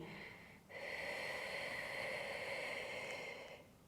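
Slow, deep breath drawn in and let out during a relaxation breathing exercise for lowering cortisol, a long steady airy rush lasting about three seconds, close and clear with no talk.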